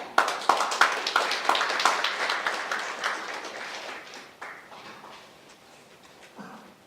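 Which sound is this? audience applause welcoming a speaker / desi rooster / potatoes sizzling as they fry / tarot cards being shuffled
audience applause welcoming a speaker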